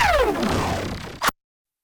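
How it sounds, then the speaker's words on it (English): A dubstep falling effect made with the Phase Plant synth sweeps steeply downward in pitch over about a second, loud and alone, ending in a short noisy burst before cutting to silence. "We have this falling effect made with phase plant."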